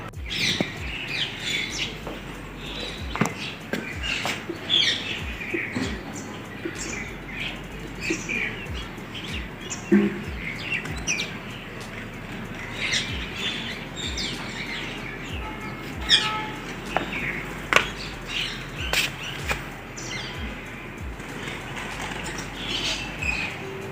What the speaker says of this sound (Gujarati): ઘરની નીચે વાત કરું તો કબૂતર છે પછી કાબર છે ખિસકોલી છે પછી ચકલી છે